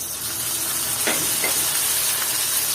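Dried rupchanda fish fries with garlic and ginger paste in a hot pan, giving a steady, close sizzling hiss with a couple of brief stirring scrapes.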